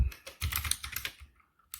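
Typing on a computer keyboard while editing rc.conf on a Void Linux system, a close burst of quick key clicks followed by a pause and a single final keystroke.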